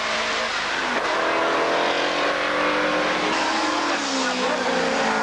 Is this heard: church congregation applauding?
no